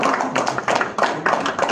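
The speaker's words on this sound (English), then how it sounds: "A very big round of applause to Mr." Office staff in Hyderabad applaud, giving a short burst of close, uneven clapping and tapping in loose clusters, with faint voices mixed in.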